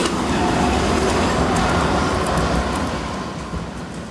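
A tram rolls past beside the beach in Alicante, a continuous loud broadband rumble with a faint high squeal that gradually fades toward the end, no voices.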